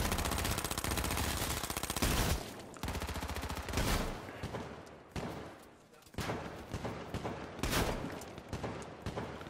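Gunfire in the battle-royale game H1Z1, bursts of rapid automatic shots and separate single cracks, loud and close at first, then thinning into scattered shots with gaps between them.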